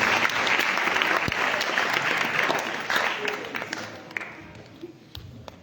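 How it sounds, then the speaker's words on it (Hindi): A congregation at New Year's night Holy Mass at the national Marian shrine in Mariamabad breaks into loud, dense applause with a few sharp standout claps, gradually fading over several seconds. "आप सबकी भरपूर तालियों में"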